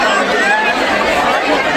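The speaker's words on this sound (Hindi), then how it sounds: "बहुत ज़्यादा भीड़ है" A large, dense crowd chatters at Har Ki Pauri in Haridwar, a continuous, loud babble of many voices close around, with no single voice standing out.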